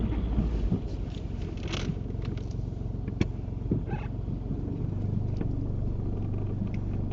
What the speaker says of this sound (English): Drive on when you're ready.